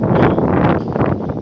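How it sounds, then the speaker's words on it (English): Strong wind buffets and roars straight into a microphone outdoors in St. Petersburg, Russia, a loud, continuous rumbling blast that swells and dips over a short moment. "the wind is howling."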